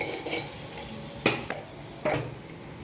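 A spoon stirs banana flower curry in a metal pan, with soft scraping and three sharp clinks against the rim spaced about a second apart, close by and alone.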